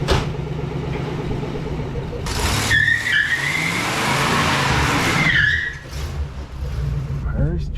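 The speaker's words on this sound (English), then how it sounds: "let me take it for a ride real quick and make sure it's even worthy" A 1977 Oldsmobile 98 Regency on a test drive, its engine and road noise steady throughout, with a brief tire squeal or rushing swell in the middle and a voice speaking over it.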